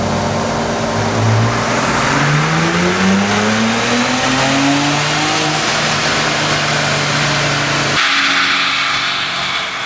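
A stock Ford truck engine running a tune on E30 fuel revs up on a dyno, pulling steadily higher toward redline in a loud, sustained climbing drone that holds near its peak before dropping off abruptly.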